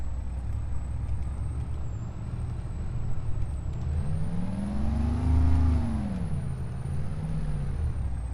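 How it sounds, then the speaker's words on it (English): A GMC truck on a Wisconsin farm during wheat harvest and straw baling, its engine brake giving a steady loud rumble that rises and falls in pitch through the middle, with continuous vehicle noise throughout. "She's got nice Jake brakes in her."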